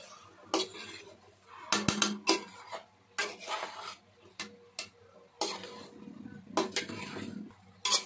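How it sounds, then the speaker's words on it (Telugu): Chicken is mixed in a bowl, and a utensil scrapes and clinks against the dish in repeated sharp knocks and rattles with brief pauses between strokes. "ఇప్పుడు దీన్ని బాగా మిక్స్ చేసుకొని కలుపుకుందామండి."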